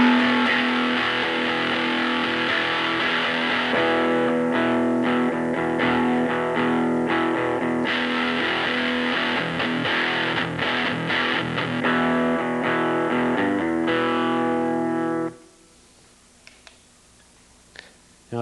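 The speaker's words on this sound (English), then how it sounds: "the thing about the distortion pedal is it's used for like heavy metal and heavy rock" Electric guitar through a distortion pedal plays thick, gritty chords and notes for about fifteen seconds, then cuts off abruptly, leaving near silence.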